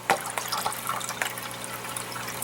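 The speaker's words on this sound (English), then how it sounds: "Now, I'm just filling this with water from the dehumidifier." Dehumidifier water poured into an indoor garden kit, a soft steady splashing and trickling at moderate level, close by, with a few brief louder drips and splashes throughout.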